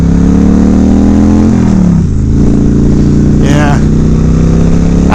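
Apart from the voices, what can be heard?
motorcycle engine revving while riding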